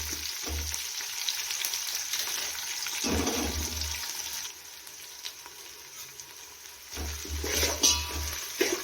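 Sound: onion frying in a pan

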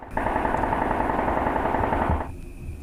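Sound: automatic rifle fire

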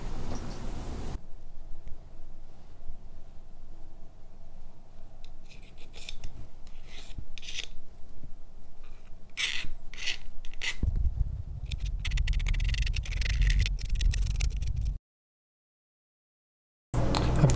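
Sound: sanding titanium RC drift parts with 800 grit sponge pad

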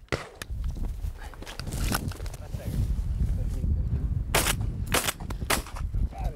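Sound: shotgun shot while hunting in Oklahoma woods

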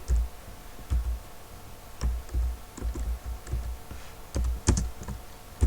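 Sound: typing on a computer keyboard in MS Word

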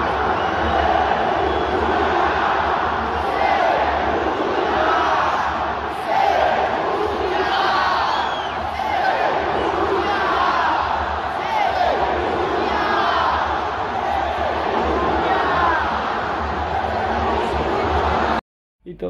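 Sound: Corinthians football fans chanting "sem mundial" in stadium

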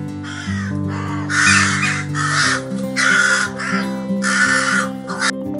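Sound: crow cawing

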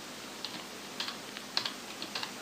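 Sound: computer keyboard keys pressed for Windows shortcuts

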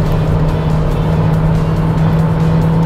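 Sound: Renault Stepway 2020 car accelerating through gears

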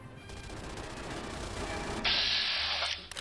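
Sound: Gatling guns firing in Fallout: New Vegas video game

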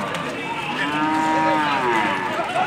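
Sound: angry bull mooing at cattle fair

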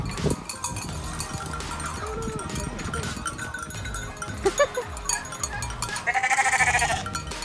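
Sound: goats bleating

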